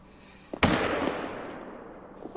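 A single sharp rifle shot in theHunter: Call of the Wild cracks loudly and close, then a long rolling echo decays over the following two seconds, with no talking.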